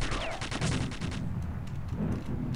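Enemy gunfire aimed at the player in the video game Quake II, a rapid burst of rattling shots in the first second, then rumbling low game sounds and faint scattered impacts.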